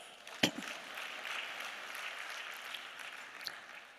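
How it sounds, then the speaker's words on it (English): A round of applause at a livestreamed Ghana diaspora gathering: one sharp loud clap followed by a soft, distant, sustained patter of clapping that lingers faintly throughout. "Another big round of applause."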